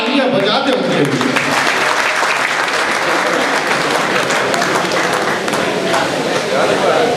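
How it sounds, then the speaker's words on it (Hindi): Audience applause at a school silver jubilee celebration, a dense, steady wash of many hands clapping for the full length, loud and sustained without letting up. "अजीजों जरा तालियां बजा दें उनके लिए।"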